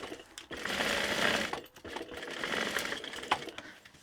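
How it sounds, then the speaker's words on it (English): A sewing machine stitches down the edge of a tote bag in two close bursts, a rapid rattling whir that stops briefly between runs. "it's actually just as easy to sew down the edge"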